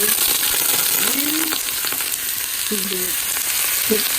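Cabbage and onions sizzle in hot olive oil in a pan, a steady close crackling hiss throughout with a few brief scraping and clinking sounds over it.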